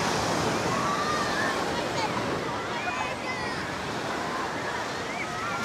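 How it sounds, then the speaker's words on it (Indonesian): Gentle sea waves wash continuously onto a crowded beach at Sanur, Bali, in the late afternoon, with wind and faint distant voices in the background. "sepertinya ombaknya di sini jauh lebih tenang"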